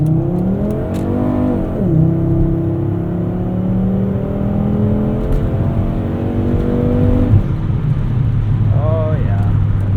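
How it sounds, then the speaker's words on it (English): A 1996 Volvo 850 R pulls hard under boost from inside the cabin, its engine note climbing through the gears with shifts and rising whine, loud and close, with brief cabin sounds near the end. "850R gets up and goes."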